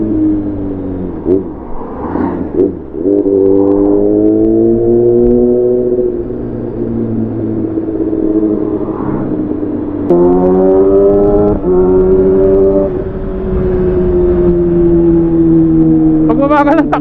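A Kawasaki Ninja ZX6R engine revs and pulls hard while riding fast, loud and close, with rising whines that drop on gear changes and a steady high-pitched drone between them.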